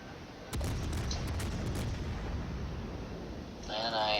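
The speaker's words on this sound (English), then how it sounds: "This guy is shooting at me over the mountain." Naval gunfire in World of Warships from a Fiji, a low rumbling boom and sustained roar that sits loud and steady throughout, with no clear talk over it.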